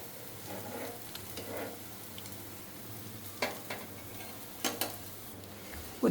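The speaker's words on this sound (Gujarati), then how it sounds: "નોનસ્ટિકની પ્લેટ ઉપર આવી રીતના આપણે ખીરાને ઢાળીને તેને ગરમ કરી લઈશું" Uttapam batter sizzling softly on a nonstick pan, a faint steady frying hiss broken by a few sharp clicks and taps of utensils, close and without talk.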